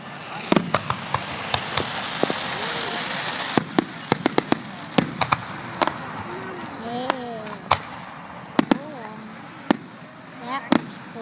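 Fireworks rockets burst at a Fourth of July finale display in Solon, sharp cracks and booms arriving irregularly over crowd noise, with whistling rockets rising in between and people talking nearby.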